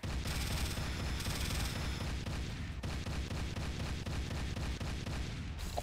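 Pistol gunfire in a Windows XP retro video game, a rapid steady stream of repeated shots and booms for several seconds with no voices.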